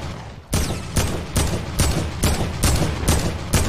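Rapid bursts of automatic rifle fire from an AK in a video game, repeating in steady loud volleys about every half second after a brief quiet start.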